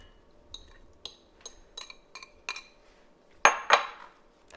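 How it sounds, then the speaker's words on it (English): A metal utensil taps and clinks against a bowl as artichoke hearts are added for a zoodle dish, with about eight sharp separate knocks followed by two louder scraping clatters, close and alone. "Now I'm just going to add the artichoke hearts."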